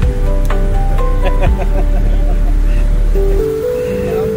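Steady, loud broadband roar of Niagara Falls in the USA fills the whole stretch, a continuous rushing wash like heavy rain with voices talking over it.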